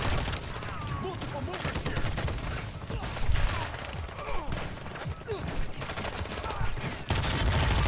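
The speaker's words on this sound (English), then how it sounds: "I'm shooting him like 80 times." Dense bursts of automatic gunfire in the online shooter Warzone 2 rattle on nearly without pause, loud and close, with someone talking over the shooting.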